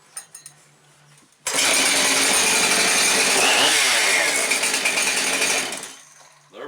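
Husqvarna 575xp chainsaw restarts after faint pulls and runs loud and close for about four seconds, then drops back toward idle.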